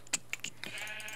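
Sheep in the video game Minecraft give a few short, quiet bleats in quick succession, with soft clicks between them and no talk.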